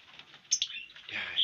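Lovebirds in a colony cage give a few short, sharp chirps over quiet background, close by and brief.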